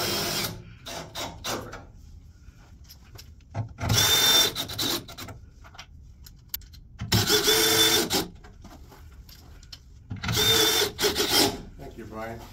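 A power drill drives screws into a floor joist repair kit under a floor, three loud whirring bursts of a second or so each, spaced by quieter gaps of handling and shuffling noise.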